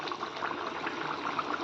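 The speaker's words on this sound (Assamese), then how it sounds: "এইখিনি এতিয়া একদম ধুনীয়াকৈ বকবককৈ উতলিব ষ্টাৰ্ট কৰিছে" A pot of chicken and banana flower curry bubbles and boils steadily, a continuous close, moderately loud churning simmer with no voices over it.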